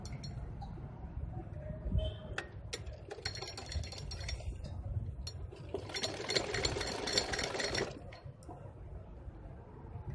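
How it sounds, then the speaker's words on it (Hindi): Sewing machine stitching a net sleeve of a single Katori blouse, a steady low motor drone with light clinking and a denser rattling run toward the end, no talk. "इसको ऐसे नीचे रखेंगे और हम इसकी स्टिचिंग करेंगे"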